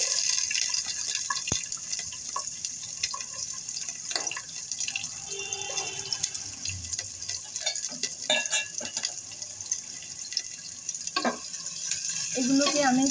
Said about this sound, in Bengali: তেলটা একটু গরম হয়ে আসলে আমি একটু পেঁয়াজ কুচি দিয়ে দিচ্ছি